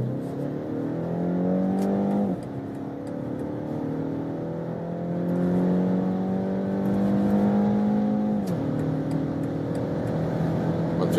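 A 4-cylinder car engine accelerates steadily from a 40 km/h rolling start, its pitch rising through gears with a couple of brief shift dips, heard from inside the car at close range.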